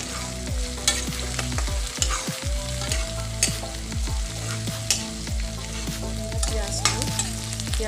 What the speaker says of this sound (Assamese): পিঁয়াজবিলাক লাৰি থাকক।